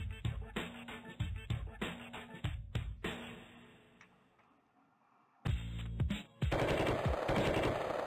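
Gunshots aimed at a car's tires in the Sift Heads 2 game: a rapid series of sharp, loud shots, then a lull, then more shots and a dense sustained burst of noise at the end.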